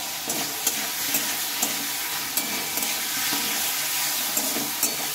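Tomatoes with turmeric and salt are stirred in a frying pan, giving a steady close sizzle marked by repeated soft scraping knocks of the spoon at an uneven rhythm.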